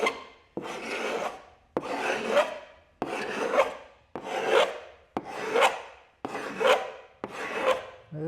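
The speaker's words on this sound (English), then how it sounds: "So what I'm doing now is I'm using a scraper and working on it that way." A hand scraper shaves wood on the outer stem of a strip-planked kayak, eight steady rasping strokes at a regular rhythm, close and fairly loud, with short pauses between strokes.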